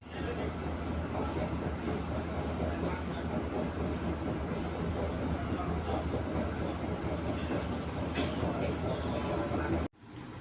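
An Indonesian commuter train rumbles steadily in the cabin, loud and close, as it runs toward Gresik station. The continuous wheel and track noise has faint clatter and ends in an abrupt cut.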